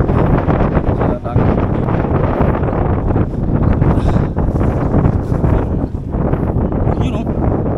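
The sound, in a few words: wind blowing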